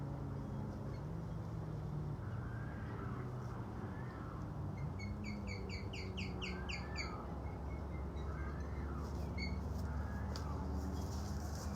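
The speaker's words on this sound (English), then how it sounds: "If y'all heard that really high-pitched call, that was an osprey." An osprey gives a run of sharp, high-pitched chirping calls in the middle of the stretch, moderately loud above steady low outdoor rumble that may be a boat motor, with a few fainter calls later.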